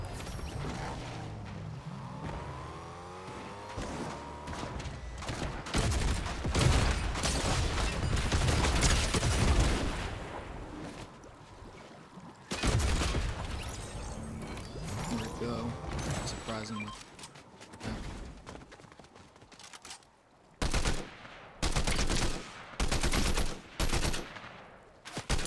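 Gunfire in the Fortnite video game, with bursts of rapid automatic shots and scattered single cracks, loud and close, interspersed with mechanical clicks and pauses, while a player talks over parts of it.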